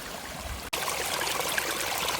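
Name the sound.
spring water flowing out of the earth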